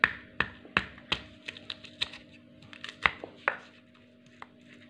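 Garlic cloves pounded to a paste for crunchy garlic peanuts, sharp irregular taps and knocks close by, one every second or so, with no talk.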